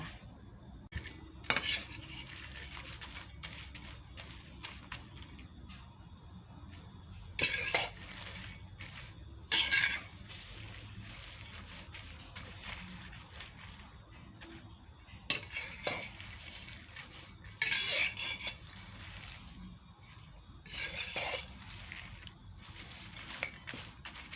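Chopped kaffir lime leaves dry-roasted in a hot wok, stirred with a utensil that scrapes and clinks against the metal in irregular bursts over a faint steady crackle, with no talking.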